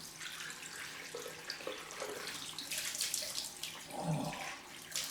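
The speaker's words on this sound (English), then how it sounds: "Cold rinse time." A tap runs for a cold rinse after a straight-razor shave, giving a steady, fairly soft hiss and splash of water that continues without a break.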